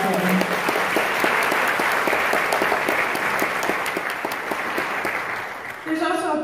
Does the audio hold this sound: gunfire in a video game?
no